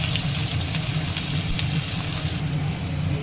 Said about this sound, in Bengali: পাঁচফোড়নটা হালকা জ্বলে উঠেছে, এবার পেঁয়াজগুলো ছেড়ে দেবো